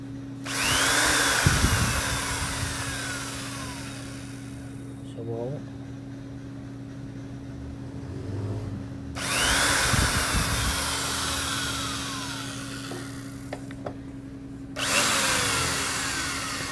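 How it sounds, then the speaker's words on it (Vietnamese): A hard power drill bit boring into a steel table, with two long loud whining bursts of drilling separated by quieter stretches as the drill runs freely, a low steady motor hum throughout. "Đầu khoan nó cứng mà nó ăn luôn cả cái bàn sắt luôn ha."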